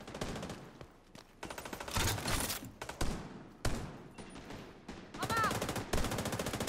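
Rapid bursts of video game gunfire, with automatic volleys and single shots crackling loudly in quick succession, a brief electronic chirp near the end.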